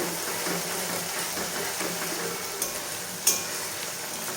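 Meat being sautéed with hand-ground spices in a pan gives a steady, dense sizzle of hot oil throughout, with a couple of brief scraping ticks and no talking.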